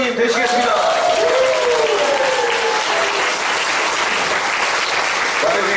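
Sustained applause fills a church worship service marking a 100th overnight devotion, dense steady clapping from a congregation throughout, with a speaking voice and murmurs audible underneath early on.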